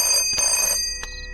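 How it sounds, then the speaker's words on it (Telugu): A telephone rings loud and close in two short bursts, a long ring followed by a shorter one, with no voices. "మీ వాడెవడో పొద్దున్న నుంచి ఫోన్ చేస్తున్నాడు"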